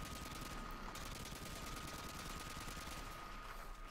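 Faint, continuous gunfire from Call of Duty: Modern Warfare 2 rattles at low volume in dense bursts, with a steady hum beneath.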